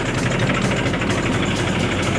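A tractor engine idles steadily while the tractor turns, giving a loud, continuous low rumble with even vibration throughout and no talk.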